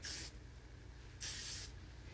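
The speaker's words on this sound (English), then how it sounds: "And if I have like 1 or 2 flyaways, a little hairspray." Two short bursts of hairspray hiss on hair to tame flyaways, soft and close, separated by a brief pause.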